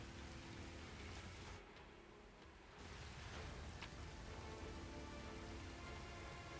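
Steady, dense rain pours throughout in a fantasy role-playing game, rendered as blood rain, a constant hiss with a brief dip in intensity partway through.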